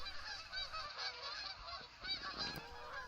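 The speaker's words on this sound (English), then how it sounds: "Geese are on the move. We could hear them until we fell asleep." A flock of migrating geese honks continuously from a distance in rural New Brunswick, a faint overlapping chorus of calls with no talking.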